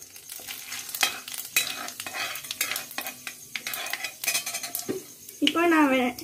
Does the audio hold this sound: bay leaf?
yes